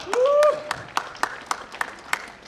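Sparse, evenly spaced claps, about eight sharp hits, ring out at a sports event for the Jecheon city mayor during a barefoot world-record challenge at a soccer tournament, with a brief voice at the start.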